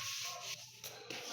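Sandpaper rubbed over a PVC resin top coat in close, quiet strokes, with a few short scraping passes and no talk.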